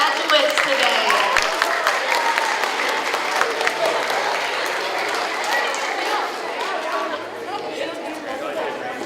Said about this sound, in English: Big round of applause for all of our graduates today.